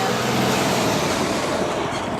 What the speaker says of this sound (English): Go trucks. Go trucks.